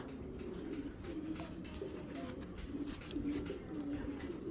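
A Silver Bagha Giribaz pigeon coos in repeated soft, low rolling phrases, close by and fairly quiet, against faint background noise.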